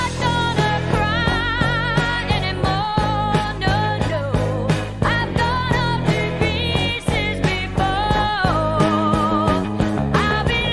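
A rock song plays as a full band mix with sung melody and steady drum hits, loud and continuous throughout, with no talking over it.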